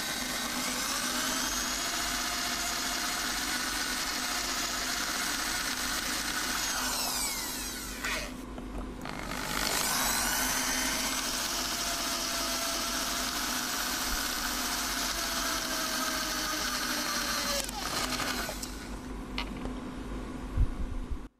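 A drill bores into hardened high-carbon steel, a steady grinding whine with a faint tonal hum that breaks off briefly twice before resuming, running close and continuous with no talk.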